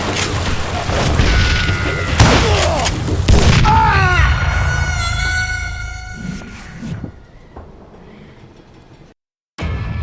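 A cluster of loud gunshots and booming blasts in the Xbox 360 game Call of Juarez: Gunslinger, packed into the first few seconds, then giving way to ringing tones that fade before a brief silence.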